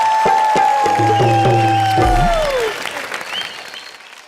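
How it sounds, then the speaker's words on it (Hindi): A studio audience at a Hindi television comedy show applauds loudly, with sustained musical tones ringing over the clapping before everything fades away near the end. "जोरदार तालियां मास्टर जी के लिए, जोरदार तालियां।"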